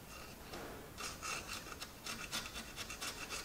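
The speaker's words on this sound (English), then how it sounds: "if I run my scraper through, you can see that." A hand scraper rasps across the cast iron of a Ferguson TEA20 tractor engine block during cleaning, quiet repeated scraping strokes close to the microphone with no talk.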